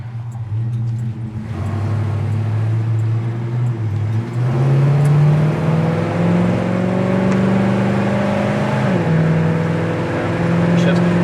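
A 1969 Chevy El Camino cruises down the road, heard from inside as a steady engine drone that climbs through a gear and then settles after a shift, with faint road noise underneath.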